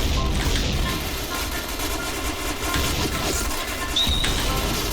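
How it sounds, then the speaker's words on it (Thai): Continuous explosions and gunfire in the shooter game Point Blank: dense, loud blasts and rapid shots with no gaps, with a brief high electronic tone near the end and a voice speaking over the noise. "อุ้ยระเบิดเยอะจัง"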